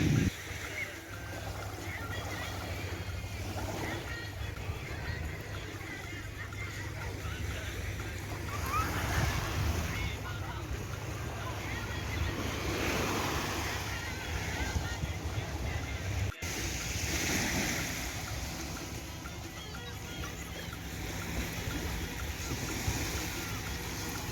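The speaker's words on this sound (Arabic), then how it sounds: "كنخليكم مع الصوت ديال الموج" Sea waves roll and wash onto the beach at Martil on the Moroccan coast, a continuous surging rush with swells rising and falling, wind mixed in, and faint voices in the background.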